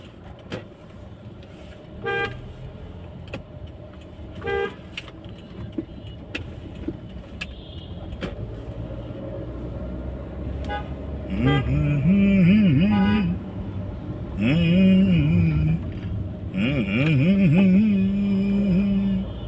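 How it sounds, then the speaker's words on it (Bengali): Busy road traffic near Dhanmondi police station rumbles on while car horns toot in short bursts, getting louder and more frequent toward the end, with a voice heard at times. "এত গাড়ি, কিন্তু কালকে কোনো গাড়ি ছিল না,"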